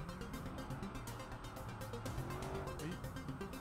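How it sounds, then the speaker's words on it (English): A racing car in the game Watch Dogs drones along with a continuous engine whine and shifting pitch, tires squealing now and then, under a busy mix of game audio. "These cars are awkward to drive, especially with a fucking keyboard."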